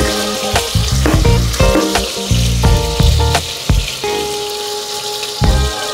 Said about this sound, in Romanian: Le tăiem grosier, le punem în ulei.